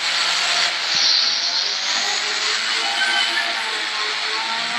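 A motorcycle races at full speed in a MotoGP video game, a steady high engine whine holding close and loud without letup.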